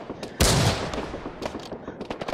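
Gunfire in the World War II video game Iron Front, with one loud close blast followed by rolling, rumbling distant shots and crackling battle noise, no voices.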